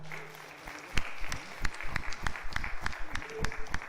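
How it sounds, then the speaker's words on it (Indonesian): Audience at a PERADI chair candidates' debate bursts into applause, scattered claps growing into a steady rhythmic clapping that fills the hall. "kita aplaus."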